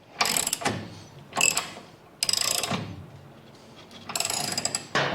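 Ratchet working the upper shock bolt on a Harley-Davidson 2022 CVO, four close bursts of quick clicking separated by short pauses.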